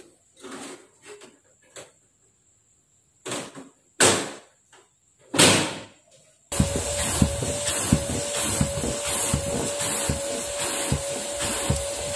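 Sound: vacuum cleaner vacuuming a pet bed

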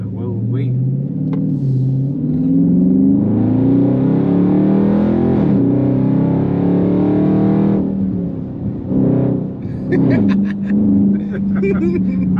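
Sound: car exhaust revving

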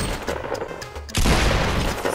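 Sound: gunfire at a shooting range in a video game

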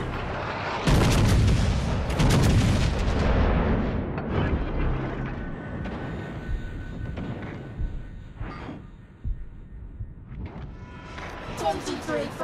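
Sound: warship artillery fire in World of Warships: Legends video game

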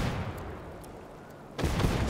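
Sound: gunfire in a video game

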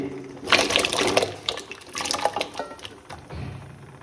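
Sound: chopped tapioca dropped into hot water in a pot

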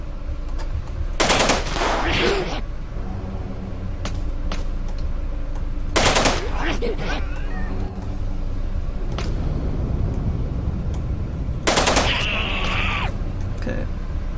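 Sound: assault rifle firing in the video game Nuclear Outrun

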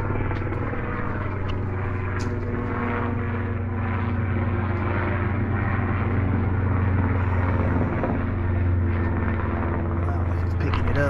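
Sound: helicopter flying overhead

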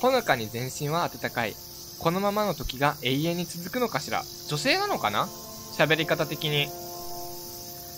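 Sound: cicadas chirping in the countryside, from the video game Nostalgic Train

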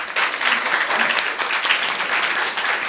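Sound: audience applause for musicians

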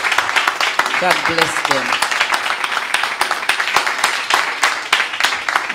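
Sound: congregation clapping for a couple

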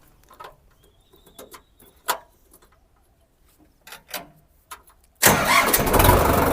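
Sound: tractor engine starting

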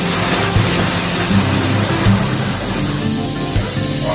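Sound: water being added into a washing machine tub

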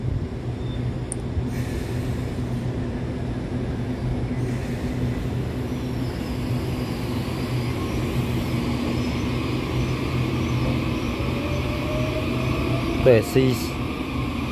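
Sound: EMU809+EMU810 commuter train 4183 departing Su'ao toward Beihu

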